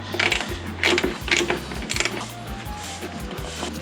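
A socket wrench ratchets on a bolt while the rear fender is removed from a Harley Sportster 1200, giving several close bursts of quick clicking separated by short pauses, over a steady low hum.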